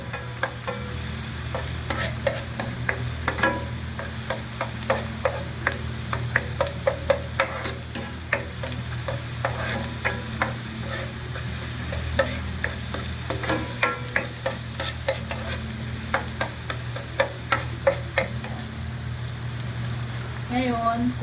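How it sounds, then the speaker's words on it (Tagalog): Garlic stir-fried with a little salt in a pan, a steady sizzle and frying hiss with repeated scraping and stirring clicks from a utensil throughout, fairly close and continuous. "pag nagpapula kayo ng garlic, lagyan nyo ng kaunting asin ha"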